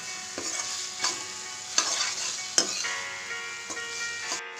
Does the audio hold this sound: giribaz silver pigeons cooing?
no